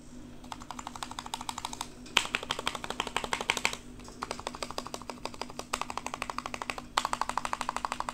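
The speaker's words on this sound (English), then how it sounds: "sounds like a polycarbonate custom build keyboard" Rapid, continuous clacking of keys on a custom mechanical keyboard with a polycarbonate build, close and crisp, with brief pauses between runs of typing.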